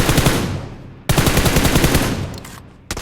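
Loud, close automatic gunfire in a video game: a long sustained burst, a second long burst right after, then the start of another, with no talk over it.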